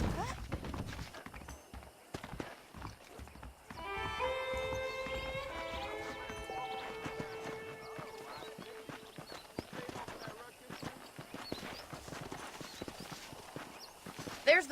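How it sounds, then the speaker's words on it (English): Horses clip-clop along at a steady walking rhythm in the Red Dead Redemption video game, joined by a brief musical sting and other game sounds, with a voice talking over part of it. "The horses are saddled up over here."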